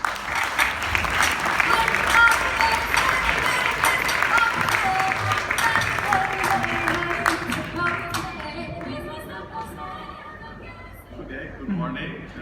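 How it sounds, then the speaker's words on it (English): Audience applause at an Enterprise Europe Network best-practice awards ceremony in Bratislava, a dense sustained round of clapping that fills the hall, then thins and fades out toward the end. "give a big applause for José Pich"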